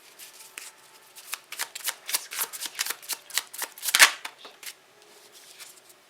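Tarot cards are shuffled in a steady run of crisp riffling flicks, loudest near the middle with one sharp snap, then tapering off to faint rustles; no talking.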